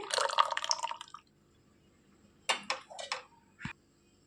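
Buttermilk is poured from a glass into cooled ragi porridge, first as a brief steady splashing pour, then, after a pause, a few separate soft drips and plops nearby, with no talking.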